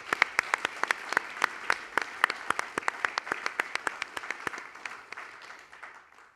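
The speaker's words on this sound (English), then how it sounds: "So could we just give a big round of applause?" An audience round of applause at an evening arts event, a sparse scatter of distinct claps that stays fairly steady before thinning out and fading at the end.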